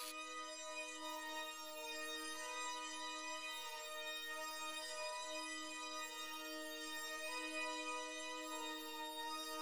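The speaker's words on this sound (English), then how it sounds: "I like this little organ almost sound" A sustained, organ-like synth tone holds steady harmonics in an FL Studio beat, pitched-down preset with halftime and RC20-style effects, playing alone at a moderate, even level with no drums or talking.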